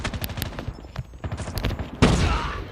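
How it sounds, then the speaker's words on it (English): Rapid gunfire in the mobile shooter COD Mobile, a close burst of repeated shots followed by a louder blast and rumbling tail. "I shot though. You guys heard the shot and everything."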